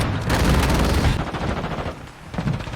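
Rapid automatic gunfire from Call of Duty Warzone Mobile, a dense loud burst of shots for about a second, then scattered shots and echoing reports tailing off, with no talk.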